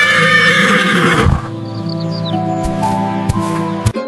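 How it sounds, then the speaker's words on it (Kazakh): A domestic horse gives a loud, close whinny with a rising then falling neigh, followed by fainter snorts, scattered clip-clop-like knocks and bird chirps in the background. "Жылқы жүйрік ақылды жануар."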